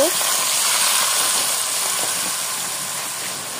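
Rice and lentils fry together in a pan for vegetable khichuri, giving a steady, loud sizzling hiss close up that holds evenly and eases slightly toward the end.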